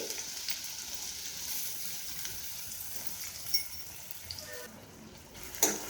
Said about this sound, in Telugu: ఆయిల్ వేడెక్కిన తర్వాత 2 మీడియం సైజు ఉల్లిపాయలు ఇలా చిన్న ముక్కలుగా కట్ చేసుకుని ఈ ఆయిల్లో వేసేసుకోవాలండి